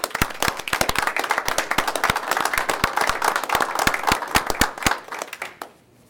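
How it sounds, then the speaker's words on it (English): Applause in a city council meeting room: a modest group of people clapping, with distinct sharp individual claps close by, steady for about five seconds before fading out. "Let's give him a round of applause."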